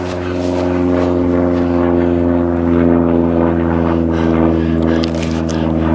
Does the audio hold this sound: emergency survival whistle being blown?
no